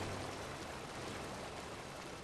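Moving water flows steadily in Spirit of the North, an unbroken, fairly soft rushing hiss like a stream, continuing alone with no voices or other sounds.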